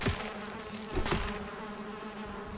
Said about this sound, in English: I can hear bees in there and all.